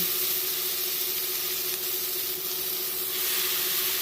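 Drumstick leaves go into a pan with cooked-down tomato while making a horse gram and drumstick leaf thuvaiyal, and a steady, loud sizzling hiss runs unbroken throughout.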